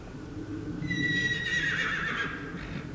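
A horse whinnies loudly and at length on a woodland trail ride, its neigh rising and falling over faint hoof clatter and outdoor background noise.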